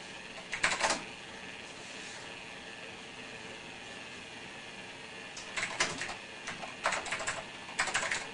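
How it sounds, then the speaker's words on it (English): Bursts of typing on an old computer keyboard at a DOS command prompt, with short clusters of key clicks separated by quiet stretches and a steady low background hum. "Gotta love these old keyboards. They don't make them like this anymore."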